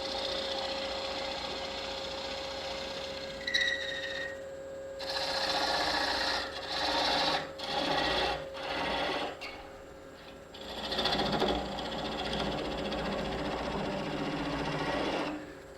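A wood lathe turning a dovetail tenon on a calculator project hums steadily while the tool cuts in irregular bursts of scraping and whirring, with brief pauses and a few sharp knocks between passes.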